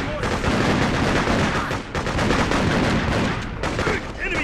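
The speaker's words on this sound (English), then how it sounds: "Enemy fire!" Dense, loud gunfire from the PS2 video game Freedom Fighters, with rapid overlapping bursts and booming shots filling the whole stretch, with only brief dips in intensity.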